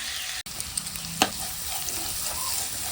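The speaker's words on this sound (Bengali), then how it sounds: "লবণ দিয়ে এবার ভাজা হচ্ছে" Carrots and peas fry in hot oil with salt, giving a steady close crackling sizzle with a brief sharp clink early on and no talking.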